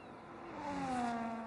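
A race car in a Formula-style racing video game at the Abu Dhabi Grand Prix accelerates with DRS open, its engine note rising steadily and loud, with a thin whine on top and no talk.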